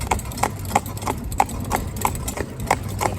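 A Fell pony's hooves clip-clop on hard ground in an even walking rhythm of about three steps per second, close and clear, with a faint engine hum underneath.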